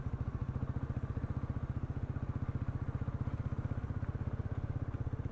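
Motorcycle engine running steadily on a mountain road in offbeat North Bengal near Sikkim, a loud, close, rhythmic mid-pitched thrum with even pulsing throughout and no talk.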